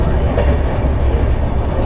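Inside the Ahmedabad to Mumbai Double Decker Express of Indian Railways, heard from the lower deck, a loud steady rumble and rattle of a train in motion fills the carriage with no break.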